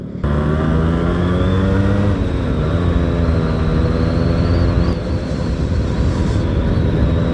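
A Yamaha RX100 two-stroke motorcycle engine revs hard and loud throughout, holding a steady, strained drone that rises through the gears with no talk over it.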